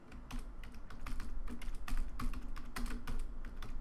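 Steady, rapid clatter of a computer keyboard while text is entered in Android Studio, close and dense with individual keystrokes, no voices over it.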